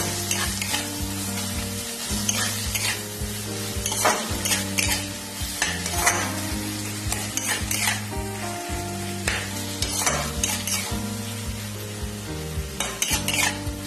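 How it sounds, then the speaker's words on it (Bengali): Chicken frying in a pan with turmeric and salt, stirred steadily, giving a continuous close sizzle with repeated scraping strokes over steady background music. "দিয়ে এটাকে আমি নাড়াচাড়া করব আর আঁচটা কমিয়ে দেব।"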